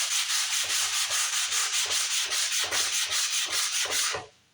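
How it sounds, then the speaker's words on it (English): Cross-grain sanding by hand on a Korina wood Explorer-style guitar body, steady rhythmic back-and-forth strokes about four per second, loud and close, stopping abruptly at the end. "I'm sanding cross grain."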